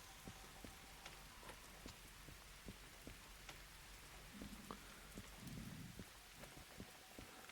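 Rain falling in the Derail Valley railway simulator game, a steady hiss of drops on surfaces with scattered sharper drips, heard alone without voices.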